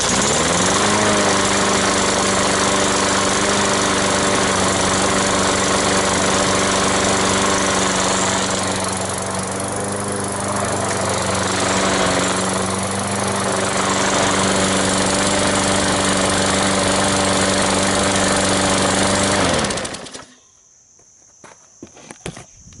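A Sears lawn mower engine runs loudly and steadily up close for about twenty seconds after repair, then cuts off, leaving faint clicks.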